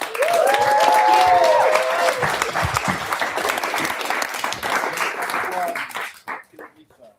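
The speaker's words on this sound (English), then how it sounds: "can I get one more final round of applause" A concert audience claps and cheers loudly after a musical performance, the applause holding strong before tapering off and fading out at the end.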